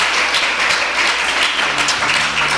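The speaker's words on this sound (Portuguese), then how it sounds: "Pode ser melhor essas palmas que é para Jesus" Congregation at a Portuguese-language church service clapping their hands, a dense, loud, continuous wash of applause from many people, steady and close with no break.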